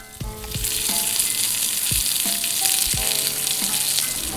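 Potatoes fry in a pan with garlic and water, giving a loud, steady sizzle throughout, with a few sharper spits and crackles and occasional utensil knocks in the foreground.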